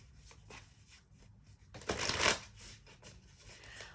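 A deck of Gaia Oracle cards is shuffled by hand nearby, soft papery riffles with one louder burst of cards slapping together midway, amid quiet light handling.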